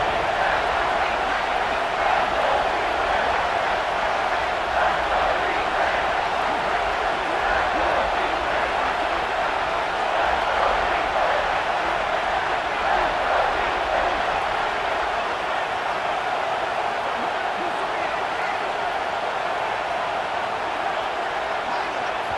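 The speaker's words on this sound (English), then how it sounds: "this big crowd doing everything possible to inspire this defense down here near the goal line" Big stadium crowd at an Ohio State vs Nebraska football game roars steadily as the defense holds near the goal line, a dense, continuous wall of cheering and noise with no breaks.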